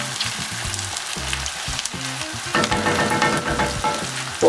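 Fresh scotch bonnet pepper fries in a pot of Nigerian vegetable sauce over medium heat, with a steady close sizzle and spoon-stirring scrapes. The frying grows louder and busier in the second half.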